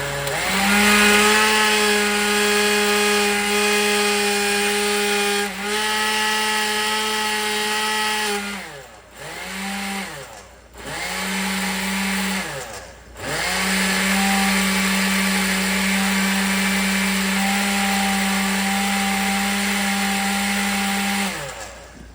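A steady, loud motor whine of a blender mixing homemade glue ingredients, running continuously, dropping out briefly a few times as it pauses and restarts.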